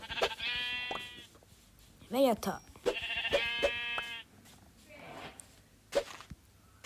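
Several drawn-out sheep bleats from a video game, loud and close, with a voice speaking between them and soft game clicks in the background.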